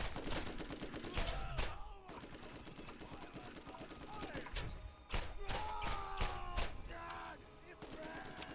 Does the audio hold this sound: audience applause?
no